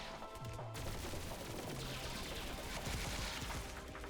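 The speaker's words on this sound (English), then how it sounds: "that explosion was awful timing" An explosion in the video game Pathogenic, during a boss-rush fight, crashes out as a dense, crackling barrage of blasts and debris that continues without pause across the whole stretch at moderate loudness.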